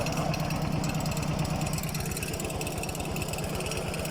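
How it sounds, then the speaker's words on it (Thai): A farm tractor engine runs steadily nearby with a rhythmic low chugging knock, constant and fairly loud for the whole stretch with no voices. "ขี่รถไถมื้อนี้"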